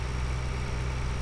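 A tractor engine in Farming Simulator 2013 drones at a steady low rumble, loud and continuous throughout.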